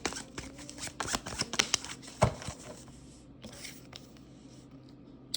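Cards from a Costa Tarot deck shuffle in quick papery riffles and flicks, ending in a soft slap as one is drawn, close and quiet with no talking.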